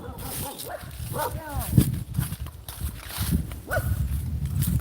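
Dogs bark in an outdoor rural lot in the Philippines, with several short bursts scattered through the clip at moderate distance, mixed with people talking and footsteps.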